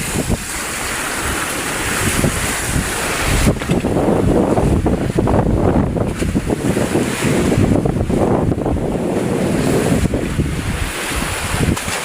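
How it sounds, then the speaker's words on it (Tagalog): Strong wind at sea on a fishing boat buffets the microphone over rushing sea waves, a continuous loud roar with gusts rising and falling. "medyo malakas ng hangin."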